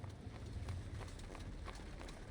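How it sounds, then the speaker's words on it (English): A horse running in the video game Reverse: 1999, heard as a steady, muffled clip-clop of hooves under a low rumble, faint and continuous throughout. "I hear someone running. Could be a horse"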